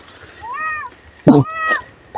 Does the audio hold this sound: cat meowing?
yes